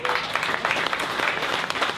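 Audience applause at an awards evening for the Andros e-Trophée 2020 racing series, a dense, even burst of clapping from a crowd filling the room.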